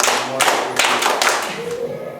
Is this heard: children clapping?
yes